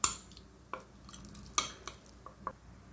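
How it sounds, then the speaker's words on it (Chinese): Utensil taps and clinks ring out over a quiet kitchen background as minced bluefin tuna belly is stirred together with chopped scallions, about five or six sharp knocks spaced irregularly across a few seconds. "把葱末加进肉泥里面搅拌一下"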